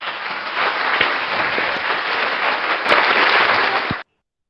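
Audience applause at a virtual ICT and internet policy forum, a steady dense wash of clapping lasting about four seconds before it cuts off abruptly.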